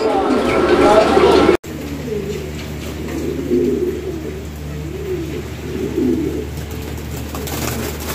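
Pigeons coo in low, rolling, repeated calls close by, after a brief burst of mixed noise at the start and an abrupt cut.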